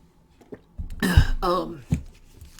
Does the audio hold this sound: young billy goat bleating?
no